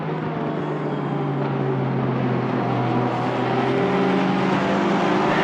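Sim racing cars, a Porsche 911 GT car chasing an Aston Martin Vantage, roar together in a steady, loud engine drone that rises gradually in pitch as they accelerate, with no talk.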